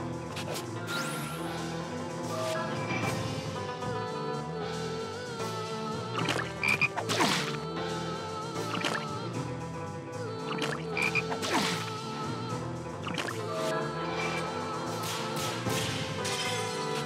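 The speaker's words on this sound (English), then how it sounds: "Oh, is this frogs?" Frogs croaking in the video game Shadow Hearts, rhythmic croaks over a steady musical backdrop with sharp hits and thuds interspersed, continuous for the whole stretch.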